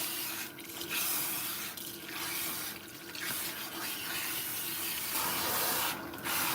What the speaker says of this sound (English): so I'm gonna rinse for a while, okay? To try to get these bubbles out.